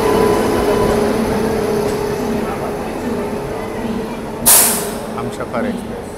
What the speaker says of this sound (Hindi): ये देखिए 4 नंबर पे आ चुकी है पटना SMBT बेंगलोर हमसफ़र एक्सप्रेस